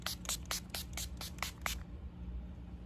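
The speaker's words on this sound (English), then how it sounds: "I will use this Makeup Revolution Hydrate and Fix Spray, and I just shake it." A Makeup Revolution Hydrate and Fix setting spray fires about eight short, hissing pumps in quick, even succession, close to the microphone, then goes quiet.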